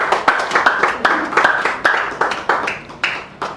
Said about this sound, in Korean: 나오실 때 박수로 환영합시다